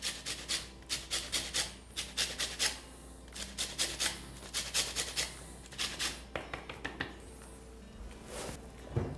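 Orange peel is grated for zest for a Christmas fruit and nut cake, producing close, rhythmic rasping strokes repeated in quick, regular runs with brief pauses between them.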